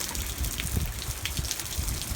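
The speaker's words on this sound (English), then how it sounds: "Rain comes and goes." Night rain and gusting wind outside on a cattle farm in January, a dense steady patter of drops with low rumbling wind buffets, no voices.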